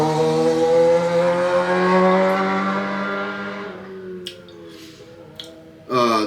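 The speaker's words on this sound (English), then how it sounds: "Motorcycle riding by." A motorcycle passing close by, its engine note droning strongly then sliding lower and fading away over several seconds, leaving faint background noise and a couple of brief clicks before a sudden loud bump at the end.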